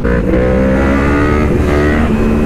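An Aprilia RS 660 sport motorcycle engine revving under way on a highway, a loud steady high-pitched drone with a slight rise in pitch, alone without talk.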